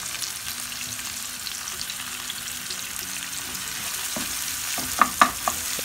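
Chillies and tomatoes hit a pan of lightly cooked onions for a fish curry, giving a steady, close sizzle, with a couple of sharp utensil knocks against the pan near the end.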